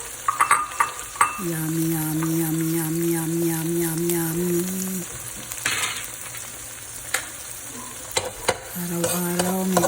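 Egg with spring onion and tomato fries in a pan with a constant close sizzle, broken by utensil scrapes and clinks, while a steady electronic hum sounds in two stretches and a voice speaks briefly.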